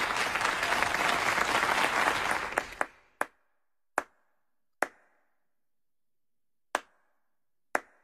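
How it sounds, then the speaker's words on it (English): An audience bursts into dense applause that fades after a few seconds, leaving a handful of sharp, isolated claps spaced out in the quiet. "Let's give them a round of applause."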